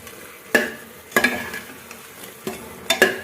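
Tahri rice dish being stirred in a pressure cooker, with several sharp scraping clanks spaced irregularly over a soft sizzle, close and without talking.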